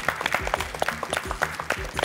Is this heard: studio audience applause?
yes